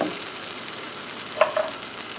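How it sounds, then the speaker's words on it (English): Prawn coconut curry simmers in a pan with a quiet, steady sizzle and bubbling, broken by a couple of brief utensil clicks. "We're gonna let this simmer for about 5 minutes or so."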